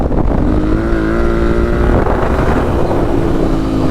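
Loud, steady engine drone from a tuned Yamaha T7 adventure motorcycle with aftermarket exhaust, stiffer springs and luggage, riding through Washington backcountry, with a rising and falling engine tone under constant wind rush and no talk.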